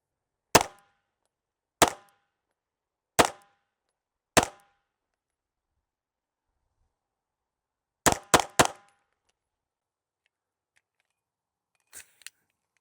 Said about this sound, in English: That is by far the smoothest pistol I've ever shot.